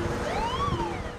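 A fire engine siren sounds on city streets in the capital, one rising and falling wail sweeping up and back down, clear and fairly close over steady traffic rumble.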